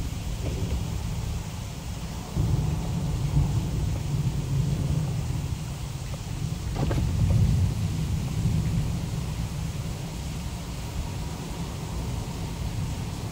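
Thunder rolls low and distant through steady storm noise beneath the Copano Causeway Bridge, swelling briefly around the middle, with lightning striking nearby.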